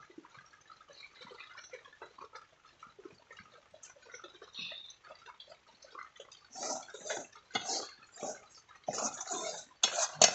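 Semolina roasts in a pan for coconut pitha while a spoon scrapes and stirs it: faint, scattered scratching at first, then louder, clattering strokes in quick bursts near the end.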